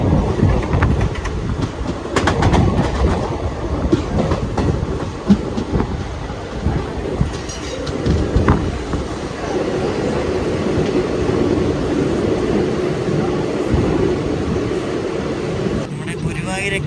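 Inside the moving Guruvayur–Egmore Express on a hot day, a steady roar of rushing wind and rattling carriage noise carries on throughout with occasional clacks, while a person talks over it.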